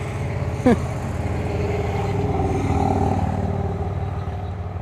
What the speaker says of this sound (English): Lots of traffic on the parkway.